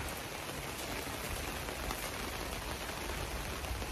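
Steady rain falls hard and close, a dense, unbroken patter on surfaces that holds at an even level throughout.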